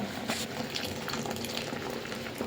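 Tamarind water poured into a pan of simmering plantain curry, a soft continuous liquid splash over a faint bubbling.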